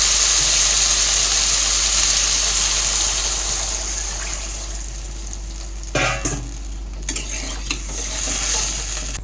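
Water is poured into a pan of fried potatoes, setting off a loud, steady sizzle with stirring and clinks of a utensil against the pan. The hiss thins after a few seconds, leaving scattered scrapes and knocks.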